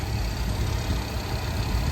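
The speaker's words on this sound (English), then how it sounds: "we fired up the 428 SCJ matching numbers engine here" A matching-numbers 428 Super Cobra Jet V8 in a 1970 Shelby GT500 convertible idles steadily close by, a deep, even rumble with no talking over it.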